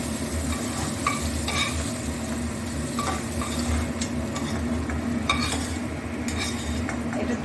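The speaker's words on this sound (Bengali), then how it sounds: "এবার দেখো এই সজনা ফুলটা ভাজা ভাজা হয়ে গেছে" Drumstick flowers fry in a pan with a steady crackling sizzle, punctuated by light scraping and clinking of a spatula stirring, close and continuous with no talk.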